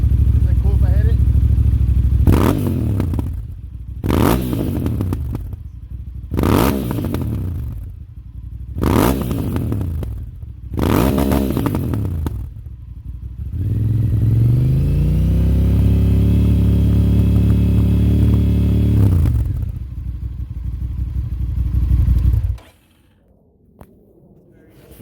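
A motorcycle engine barks through five sharp revs in a row, then holds a steady, loud high idle at 4,000 RPM for several seconds before cutting off.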